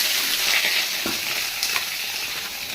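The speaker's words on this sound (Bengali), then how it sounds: "আমি এই সেদ্ধ সোয়াবিনটা একটু ভেজে নেবো কড়াইতে" Boiled soybean chunks fry in hot oil in a kadhai with a steady, loud hiss and sizzle and a few soft stirring scrapes.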